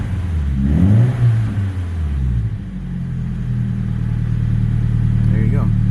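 The SR20DET engine of a 1995 Nissan 180SX Type X revs up a couple of times with a rising and falling roar, then settles into a steady low idle, close by.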